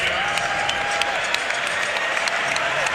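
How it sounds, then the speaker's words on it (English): Arena crowd at an NBA All-Star game reacting as Dirk Nowitzki checks in, a steady wash of cheering and applause with scattered claps throughout, a commentator's voice faintly under it. "Dirk Nowitzki hearing it from the crowd as he checks in"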